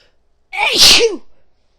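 A single loud, close sneeze with a sharp vocal burst and an airy spray, alone and without talk, one of a run of repeated sneezes.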